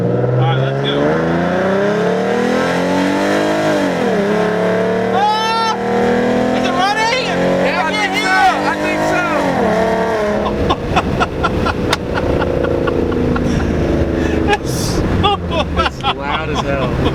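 A Hellcat's engine revs and accelerates loudly nearby, rising and falling in pitch in long sweeps, with excited voices talking over it.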